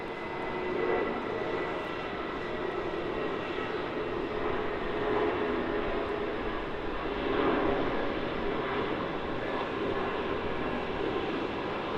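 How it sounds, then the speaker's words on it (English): A Jetstar Airbus A320 jet airliner on a Sydney service at Melbourne Airport, a steady broad engine roar held at moderate distance for the whole stretch, swelling slightly midway, with no voices. "This is the Jetstar A320 Sydney, milk run number 5."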